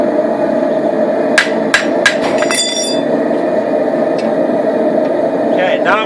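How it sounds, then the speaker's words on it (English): A hammer forges a steel blade, ringing in several sharp metallic strikes spaced about a third of a second apart over a loud continuous background roar, with a faint voice in the mix. "now I'm going to start forging the bevels"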